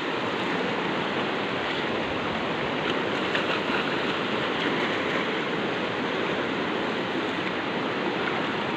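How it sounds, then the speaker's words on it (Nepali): A swollen, flooded hill stream in Nepal rushes past in a constant, loud broadband roar that never lets up, heard close by with no voices. "खोलो चाहिँ एकदम ठुलो आएको छ वारिपारी भएर बगेको छ"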